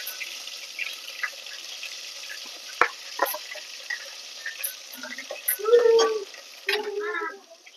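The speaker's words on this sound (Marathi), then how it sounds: "तिथं तेल छान तापले आपलं, त्यामध्ये टाकू आपण मसाला. तर सगळ्यात आधी टाकते वाटण." Ground masala paste for a black-masala mutton rassa hits hot oil and sizzles, with close scraping stirs and a few sharper knocks against the pot, plus brief running-water-like gurgles near the end.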